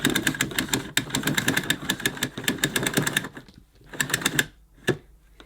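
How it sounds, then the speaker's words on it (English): Rapid clicking from the power cable of a Sebo Airbelt K1 vacuum cleaner being pulled out, a steady fast ratchet of clicks for about three seconds, then a few slower isolated clicks, close and clear. "You'll notice a clicking noise as you pull it out."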